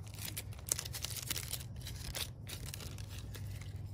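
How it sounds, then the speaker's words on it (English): A chisel from a repair kit pops through a leaking tube on a Heliocol pool solar panel, making one sharp crunch early on over a steady low hum and broadband hiss. "we're gonna take this chisel that comes with the kit, get it close to the head, give it a pop, makes a nice clean cut"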